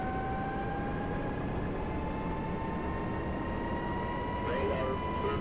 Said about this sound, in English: I'm going to go ahead and bring the throttles up to idle while we're waiting